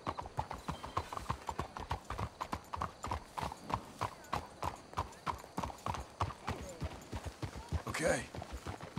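Steady clip-clop of horse hooves at a brisk walk in the video game Red Dead Redemption 2, close and continuous, with a horse whinnying near the end.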